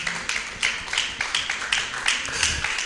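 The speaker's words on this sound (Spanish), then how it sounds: "Dale las fuertes palmas que son para él." A group at a church teaching session claps in a steady, rhythmic beat, roughly three claps a second, loud and close with no talking over it.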